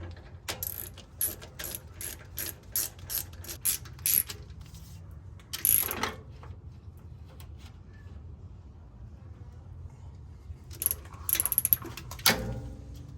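A hand ratchet cranks down the brake caliper bolts on a Ford Expedition during a brake pad job, with bursts of quick close clicking separated by quiet stretches.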